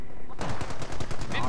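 Machine gun fire in Company of Heroes: a rapid, steady burst of loud repeated shots starting after a brief pause and continuing to the end.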